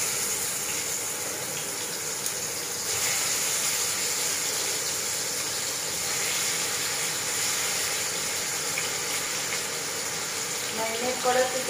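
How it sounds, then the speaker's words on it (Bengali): Marinated chicken fries in a pan with a little chopped garlic, making a steady, close, hissing sizzle that runs throughout and a few faint crackles near the end. "ম্যারিনেট করা চিকেনটা দিয়ে দিলাম।"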